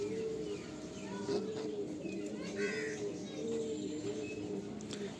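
Madras breeder pigeons cooing in a pair, repeated low throaty coos rolling in a steady rhythm close by, with light chirps and faint background murmur of people.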